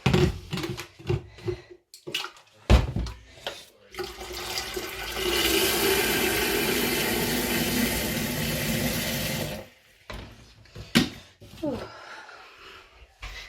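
Water runs steadily from a tap into a kettle for several seconds, a dense rushing stream, between scattered handling clatters and quiet pauses before and after.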